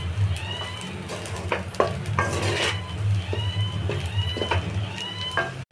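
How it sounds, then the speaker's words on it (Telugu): A spoon scrapes and clatters in a pan as chicken fried rice with tomato sauce is stirred over the heat, with soft sizzling beneath a series of metallic taps and scrapes close by. "కొంచెం టమాటా సాస్, వేసి మిక్స్ చేసుకోవాలి."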